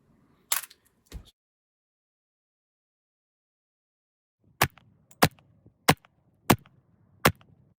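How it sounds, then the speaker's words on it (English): A 1960 Beretta Jetfire pistol fires metal case rounds outdoors. Two quick sharp pops are followed by a pause, then a string of five evenly spaced snapping shots, each crisp and short against near silence. "I took the Jetfire out and fired a few strings with it."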